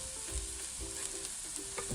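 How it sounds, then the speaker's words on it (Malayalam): Sugar sautéed in ghee in a pan: a brief, constant fine sizzle with a few soft stirring scrapes, close and quiet, with no talking. "ഇത് ഈ ഗീക്കകത്തൊന്ന് വഴറ്റിയെടുക്കാം."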